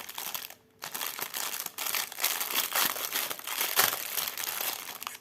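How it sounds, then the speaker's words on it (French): Crinkly plastic wrapping being pulled off a cross-stitch package during unboxing, continuous close rustling and crackling with a short pause near the start. "Alors, on va le déballer."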